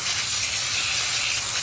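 Cleaner is sprayed onto a dishwasher's top housing, a close, steady hiss of spray that stays loud and even from start to finish with no breaks.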